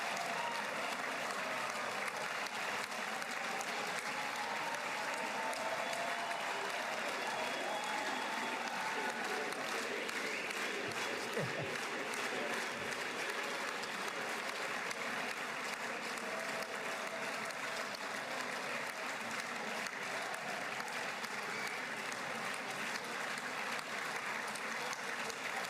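Dense, sustained clapping from a large audience for Benjamin Netanyahu, a steady unbroken wash of applause heard from a distance with no let-up throughout.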